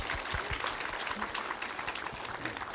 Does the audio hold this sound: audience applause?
yes